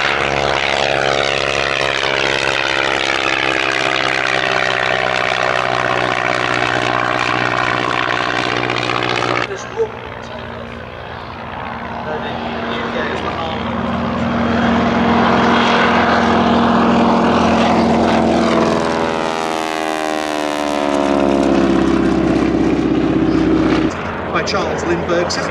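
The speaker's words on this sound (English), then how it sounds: "another of the famous American training aircraft of the Second World War, demonstrating its less than stellar performance" A Ryan ST-A, a Second World War American trainer aircraft, flies past at an airshow. Its propeller engine drones loudly and continuously, with the pitch shifting as it passes, under a commentator's voice.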